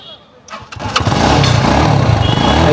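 A used motorcycle with about 26,960 on the odometer, in fresh unmodified condition, starts up and settles into a steady, loud engine run close by.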